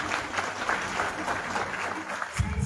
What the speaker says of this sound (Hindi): एक बार मैं चाहूंगी आप सभी के लिए एक शानदार तालियां होनी चाहिए।